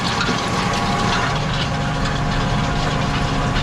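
Tractor engine running steadily while pulling a Kongskilde Delta cultivator with a Rolmak roller across a field at night for sugar beet, a constant loud drone with low rumble and rattling implement noise, no talk.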